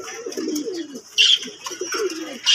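Fancy pigeons coo up close in repeated throaty, rolling phrases, with bursts of brighter chirping and rustling between the calls.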